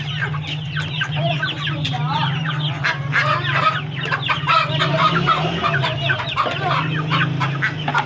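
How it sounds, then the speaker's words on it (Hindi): An Aseel rooster, just caught, clucks and squawks agitatedly throughout, a continuous run of loud, close calls over a steady low hum. "मुर्गा पकड़ा गया।"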